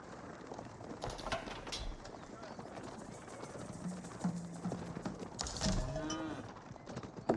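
Low cow moos sound a few times amid a busy rustling background, with some hoof-like clopping, moderately distant, in the video game Age of Empires 4.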